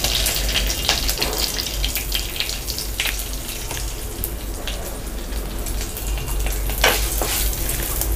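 Mustard seeds and asafoetida hit hot oil and crackle in a dense, steady sizzle, with sharp pops bursting out now and then as the seeds split, close and fairly loud with no talking.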